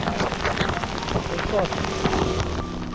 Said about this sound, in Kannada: ಮಳೆ ನೋಡಿ ಹೇಗಿದೆ